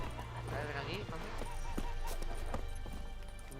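Hooves clip-clop in a quick gallop as the horse Roach runs in The Witcher 3, heard fairly faintly under a voice and game music.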